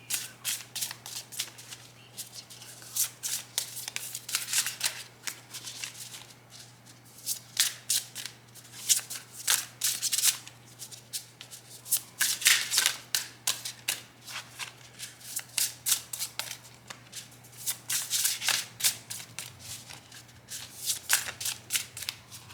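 Tarot cards shuffled by hand in steady repeated bursts of riffling and flicking, close and clear, with brief pauses between runs and a low steady hum underneath.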